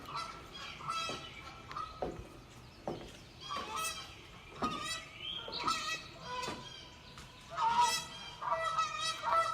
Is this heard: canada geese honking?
yes